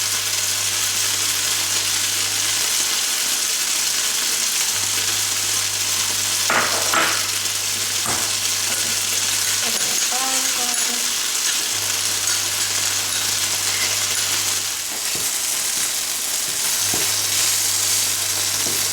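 Bacon fries in a pan for a quick carbonara, giving a continuous close sizzle with a few scattered crackles and light clinks and a low hum beneath.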